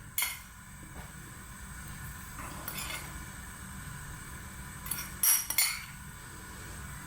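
Cloves and ground coffee are dropped into a pot of water for Arabic coffee, making a few faint, sparse clinks and taps against a quiet kitchen background.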